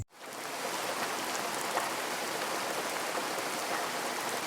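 Steady, dense rainfall hisses without a break, heavy and even, with no voices.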